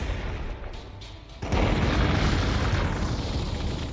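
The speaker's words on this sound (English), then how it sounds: "Fire artillery!" Artillery fire in the Warhammer 40K Gladius strategy game: a quiet lead-in, then a sudden heavy boom that opens into a sustained loud rumble of barrage and blasts, with no talk over it.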